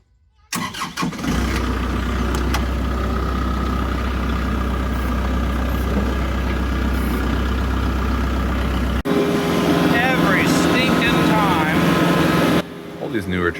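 A Kubota tractor engine cranks and catches, then runs at a loud, steady diesel idle close by for many seconds, the tone shifting partway through before it drops off near the end.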